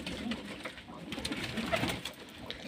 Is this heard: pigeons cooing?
yes